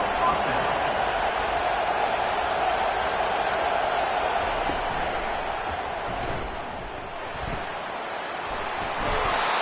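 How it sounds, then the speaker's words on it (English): Steady roaring stadium crowd noise from an Alabama home game in an NCAA football video game, a dense wash of cheering that dips slightly then swells again. "It is getting loud as this crowd tries to help its defense."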